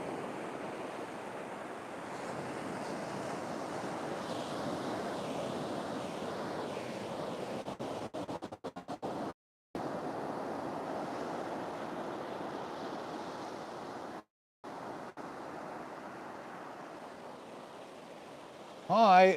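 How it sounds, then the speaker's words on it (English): Ocean waves washing onto a beach on Rabbit Island, New Zealand, a steady close surf wash with wind buffeting the microphone, briefly cut out twice, ending with a louder bump. "having the ocean just running in there, and maybe give you a bit of a listening to the waves"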